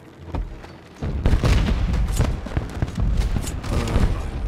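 Rapid booms and crackling bursts pop in quick succession, a dense volley of fireworks explosions rumbling loudly for several seconds in the Wii game Shrek Forever After.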